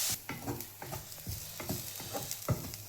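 Onions sautéing in a pan for chana masala, a soft steady sizzle broken by repeated scraping stirs of a spoon against the pan, close and fairly quiet.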